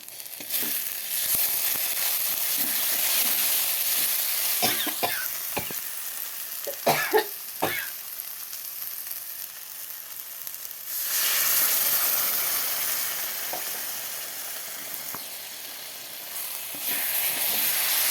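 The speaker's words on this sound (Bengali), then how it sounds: "ভালো করে কষিয়ে নেব আরও" Spiced katla fish jhal curry sizzles and hisses steadily in a hot pan, with scattered clinks and scrapes of stirring near the middle and a louder burst of frying when water splashes in, no talk.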